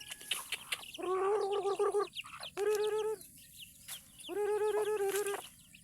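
Free-range village chicks and hens cluck in repeated bursts of harmonic calls close by, three distinct runs of rhythmic clucking with short gaps between them.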